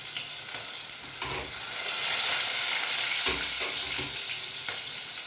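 Small onions and a little tomato sautéing in hot oil for tempering, a loud, close, steady sizzle with occasional stirring scrapes and soft knocks.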